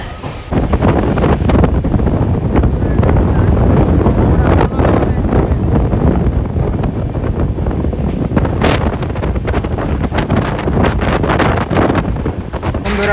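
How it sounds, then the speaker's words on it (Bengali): The Agniveena superfast express on the Howrah–Asansol route runs hard after pulling out of Bardhaman Junction, a loud, continuous rumble and rattle with heavy wind buffeting that stays steady throughout. "ট্রেন এখন বেরিয়ে গেল বর্ধমান জংশন থেকে"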